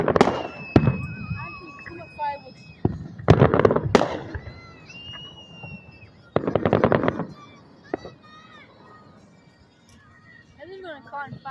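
Fireworks burst in a backyard or street display, a run of sharp cracking explosions in clustered volleys with whistles and rumbling tails, loud and close, while excited voices shout and react between the bangs.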